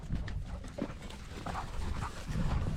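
Working sheep dogs on a farm panting rapidly and heavily at close range while loading up, with quick breathy puffs and some faint shuffling but no voices.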